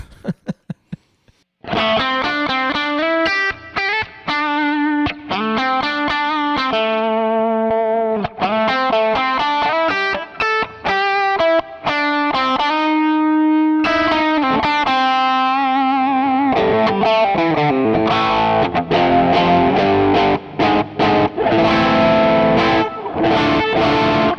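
An electric guitar through a Boss GE-7 EQ pedal set for a Tube Screamer-like overdrive plays a melodic line and then strummed chords, warm, loud and clear with no voices.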